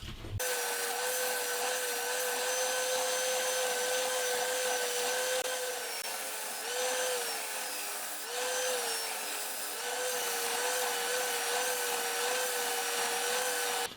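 A belt sander shapes a wooden guitar headstock cut from fence timber, a steady whining drone with a rough sanding hiss that dips slightly in pitch as the wood is pressed, no talking.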